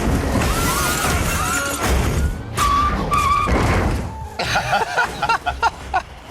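A heavy vehicle, roughly 20,000 pounds, spins its tires in a burnout during a Fast & Furious action scene: screeching tire squeals and engine roar mixed with crashes and shattering debris, loud and continuous, with tonal squeal streaks.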